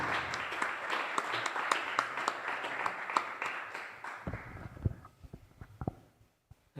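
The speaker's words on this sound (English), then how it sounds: "so let's applaud" Applause after a paper presentation at a conference session, a full round of clapping for a few seconds that thins to sparse individual claps and then fades to near silence.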